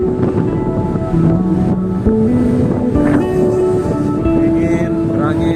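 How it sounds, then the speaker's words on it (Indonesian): Wind buffets the microphone loudly and constantly on the summit of Mount Sanghyang in Bali, with a steady rushing roar and a voice speaking under it. "Jadi anginnya sangat kencang kali teman-teman."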